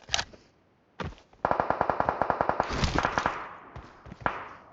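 Automatic gunfire from a weapon in PUBG Mobile: a short shot, then a long rapid burst of evenly spaced cracks over a couple of seconds, trailing into scattered shots, loud and close with no talking.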